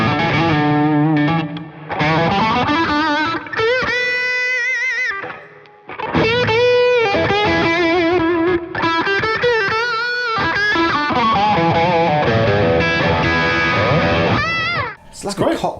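Fender electric guitar, either a Jaguar or Jazzmaster, played with a phase-switch tone that gives a nasal, cocked-wah quality, loud and close in busy melodic phrases with brief gaps.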